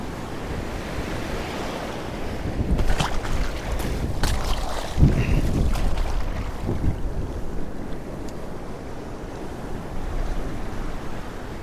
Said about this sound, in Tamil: கடல் அலைகள் கொஞ்சம் அதிகமாகவே இருக்குது